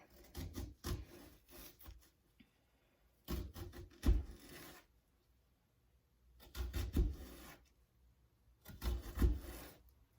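A knife slices along the side of an onion on a cutting board in four short clusters of quick, crisp crunching cuts, each cluster a few rapid strokes, close and quiet with pauses between.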